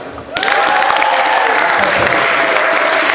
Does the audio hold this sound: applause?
yes